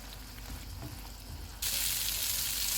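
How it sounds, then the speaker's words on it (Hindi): Chicken being pan-fried over a medium flame, a low crackling sizzle that abruptly turns into a louder, brighter hiss partway through, with faint stirring underneath. "चूल्हे को मीडियम कर देते हैं और इसको भून लेते हैं"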